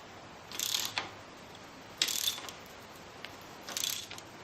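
A helicoil thread insert is wound into the alloy casing of a postie motorcycle, producing three close, bright bursts of ratcheting metallic clicks separated by short pauses over steady background hiss.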